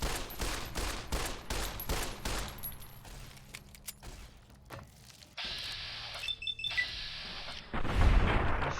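Gunfire in the modded Fallout New Vegas game, a rapid run of sharp shots followed by scattered bangs and a sustained mechanical whine, then a heavy low thump near the end.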